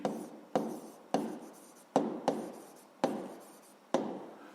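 Seven crisp strokes of a pen scratching across paper, each a sharp onset that tails off, evenly spaced and close with no talking.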